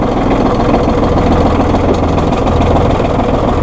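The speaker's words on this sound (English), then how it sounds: "Now we'll run the 3-point hitch." A 1998 New Holland Boomer 1925 compact tractor's 34 hp engine runs loud and steady at close range while raising its three-point hitch, a constant mechanical drone with faint knocking and vibration throughout.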